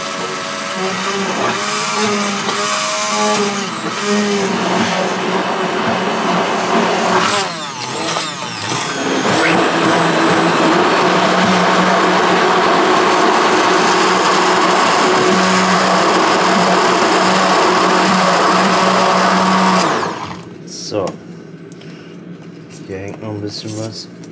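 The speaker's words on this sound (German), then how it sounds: "mit dem Stabmixer verrühren." An immersion blender whirs steadily as it mixes egg and whey protein, a loud continuous motor drone with pitch shifts for about twenty seconds before cutting off, with a person talking over it.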